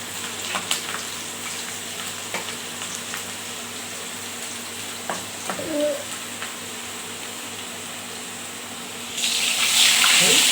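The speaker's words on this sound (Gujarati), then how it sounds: "ચમકારો બોલે." Garlic tempering for kadhi crackles in hot oil with red chilli, a steady low sizzle with faint clinks that swells into a louder, hissing burst near the end.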